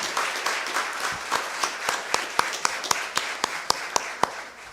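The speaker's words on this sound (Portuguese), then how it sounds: "Vamos bater uma salva de palmas para o deputado Zaratini?" Sparse round of applause in a municipal council chamber in Caieiras, honoring a deputy, with a thin patter of hand claps building to distinct sharp individual claps near the end.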